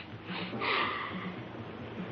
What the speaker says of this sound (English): will you stop sniffling the flowers